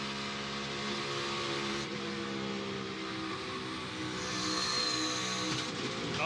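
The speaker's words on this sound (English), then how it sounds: "Oh, it blows out. You can hear the tire explode." A NASCAR race car on track at Kansas after hitting the wall, engine roaring loudly and continuously with a rising, strained whine near the end as the tire blows out; no talking.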